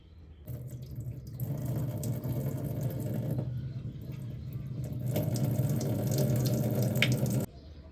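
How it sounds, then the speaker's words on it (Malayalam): Water pours in a continuous splashing stream into a bowl of grated potato, starting and stopping briefly partway through before running on, close and fairly quiet, with no talk. "ഇനി നമുക്ക് കുറച്ചുകൂടെ വെള്ളം ഒഴിച്ച് വെക്കാം അതിനകത്ത്."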